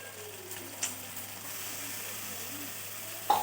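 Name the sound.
ginger garlic paste sizzling and frying in oil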